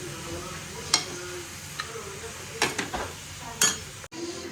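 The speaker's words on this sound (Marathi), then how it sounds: "थोडंसं पालक टाकून हे सगळं व्यवस्थित मिक्स करून घ्यायचं आणि दोन तीन मिनिट असंच परतायचं" Spinach is stirred and sautéed with dal in a pan for dal palak. A faint sizzle sits under scattered spoon scrapes and metallic clinks, fairly close and quiet overall.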